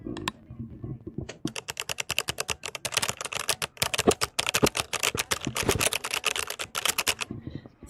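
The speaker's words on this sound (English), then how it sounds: "I have a keyboard that has some Sakura switches" Typing on a keyboard fitted with Sakura switches, a rapid, crisp stream of sharp key clacks close to the microphone, steady bursts with a few short gaps and no speech.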